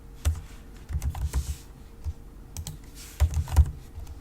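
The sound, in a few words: typing username on computer keyboard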